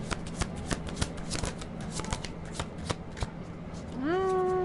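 Tarot cards are shuffled close by in a steady riffling patter, and two cards slip out near the end, followed by a sustained tonal sweep as the sound continues.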